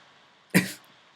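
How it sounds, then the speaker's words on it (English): One person gives a single sharp throat-clearing rasp with a spitting sound, a short loud burst alone in quiet surroundings. "Clear your throat and spit, which is like this."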